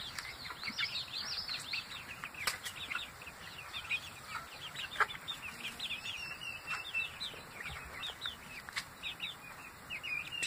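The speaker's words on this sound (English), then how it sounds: "It's very funny when they're doing their first practice crows." Background chickens on a homestead with bird calls and clucks throughout, where a young meat rooster is trying out early practice crows; the calls are scattered, fairly faint and distant, with no talking.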